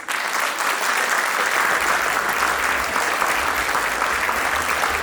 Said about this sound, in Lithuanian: Pasitikime juos karštais plojimais.